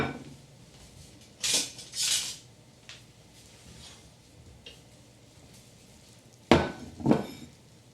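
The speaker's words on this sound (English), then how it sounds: "I'm going to grab a plate and dish myself up" Plate and cutlery clatter as lemon and spinach pasta with shrimp is dished up, with two bursts of sharp metallic scraping and clinks, a quiet pause, then two more louder clanks close by.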